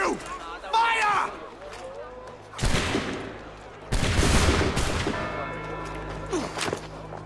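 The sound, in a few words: musket volley fired on command, from Assassin's Creed 3 video game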